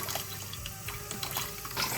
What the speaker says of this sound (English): So, gave my chicken a good wash with the lemon and water.